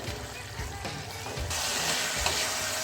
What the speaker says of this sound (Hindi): इसको अब हम मीडियम टू हाई फ्लेम पर कुक होने देंगे